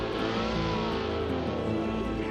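A race car engine in the BeamNG driving game revs hard toward a high limit near 9,000 RPM, a loud, continuous, strained drone that barely changes pitch throughout.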